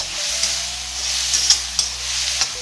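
Garlic and curry leaves sauté in a generous amount of hot oil for a prawn thokku, giving a steady close sizzle with a few light scrapes of stirring and no talking.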